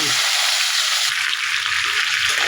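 Katla fish heads frying in hot oil, a loud, steady, close-up sizzle with a dense crackling hiss that stays even throughout, no talking.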